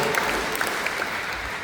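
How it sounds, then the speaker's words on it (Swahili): A church congregation at a Christmas service claps together, a brief burst of steady, fairly loud applause from many hands filling the room without voices. "Hebu mpigie Yesu makofi mengi mengi kwake yeye aliyezaliwa."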